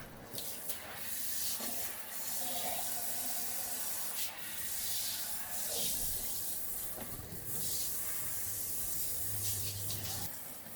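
A StoneStream filtered shower head spraying water, a steady hissing rush of spray that swells and dips slightly over its length, fairly faint and with no voices.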